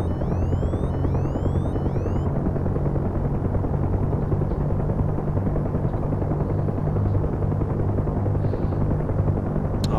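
Huey helicopter in the DCS flight simulator with a damaged tail rotor, a loud continuous throbbing rotor and engine drone, with a few brief high warbling tones at the start.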